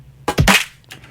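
A layered snare built from two stacked clap samples cracks once, full and bright, with a short tail and a softer trailing hit just after.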